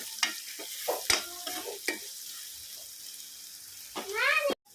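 Brinjal pieces stir and gently sizzle in oil with turmeric for a spicy eggplant curry, soft scattered scrapes and a low fry beneath a faint voice.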